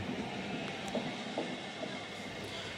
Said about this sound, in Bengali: আমাদের সামনে ওটা বেরিয়ে যাচ্ছে কাটোয়া লোকাল।